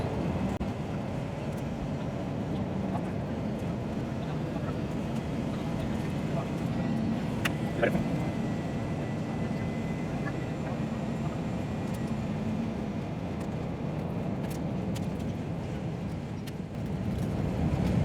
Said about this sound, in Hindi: अनाउंसमेंट हो गई है, और जहाज़ बतदरीज नीचे आ रहा है।